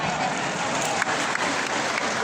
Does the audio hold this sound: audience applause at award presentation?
yes